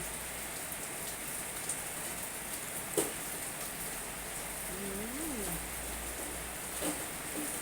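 Steady rain hisses continuously, with occasional sharper drop taps and a faint, brief warbling call partway through.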